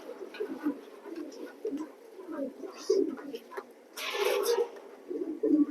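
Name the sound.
pigeons cooing in a pigeon loft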